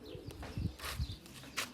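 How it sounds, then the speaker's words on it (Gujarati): Pigeons flocking to peanuts scattered on the ground, giving soft throaty coos with quick bursts of wing flapping close by. "નાખો નીચે નાખો એટલે આવે બધા કબૂતર."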